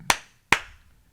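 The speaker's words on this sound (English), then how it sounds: "All right, clap." Two crisp, close hand claps about half a second apart, each decaying quickly into a quiet room during a sound check.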